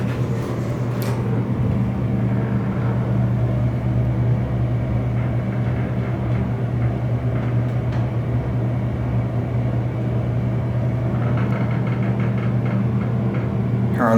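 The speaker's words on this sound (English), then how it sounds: "let's listen to the motor" An original Dover traditional hydraulic elevator motor at a hotel drones steadily and loudly up close, a constant low hum with faint clicks near the start and end.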